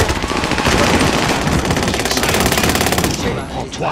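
Call of Duty Warzone automatic gunfire rattles in a loud, rapid, steady burst for about three seconds, then cuts off into fading echoes.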